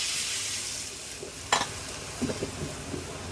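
Water hits a hot pan of frying spices for a Bengali fish curry, giving a sudden sharp burst of hiss over steady sizzling, followed by a few bubbling, stirring clatters.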